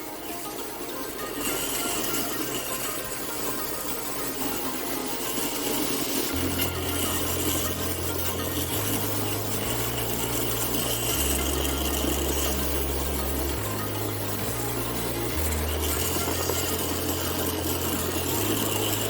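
A rotary carving tool polishes fire agate at a carving station, a steady high-pitched whirring grind that runs continuously and close up, with a low, shifting tonal hum underneath and no talking.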